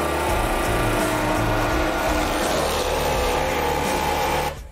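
Electric impact wrench running on a nut threaded onto an M16 bolt, a loud continuous buzzing whir with a steady low hum that holds for several seconds, then cuts off abruptly at the end, with no talk over it.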